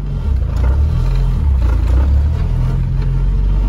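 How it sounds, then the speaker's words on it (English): A turbocharged Honda Integra engine runs with a loud, steady low rumble and light rattling clatter throughout. "So the car has a lot of rattle noises,"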